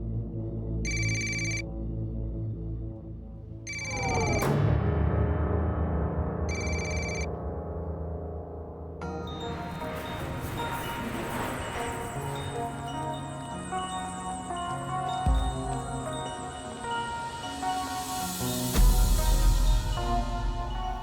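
A telephone rings in repeated evenly spaced bursts, loud and close, left unanswered, then gives way to a swelling musical background.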